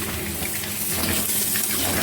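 Tap water gushes steadily while potatoes are rinsed, a continuous close splashing rush with no pauses and no talking.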